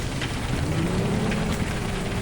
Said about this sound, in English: I'm entering the hail.